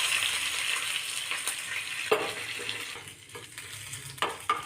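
Spice tempering of bay leaf, dried red chilli and ginger sizzling in hot oil, a close, steady frying hiss with a few sharper spatters and stirring scrapes, no voices.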